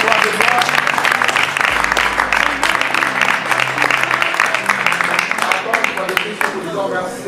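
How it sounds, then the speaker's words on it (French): A church congregation applauding in acclaim of Jesus at a mourning ceremony: sustained loud clapping from a crowd with steady rhythmic beats, under a voice talking over it. "Nous pouvons acclamer Jésus, le roi de gloire"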